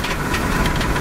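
A 1971 Oldsmobile Delta 88 with a 455 V8 engine running with a fault, giving a steady, close, rough mechanical drone for about a second with no talk.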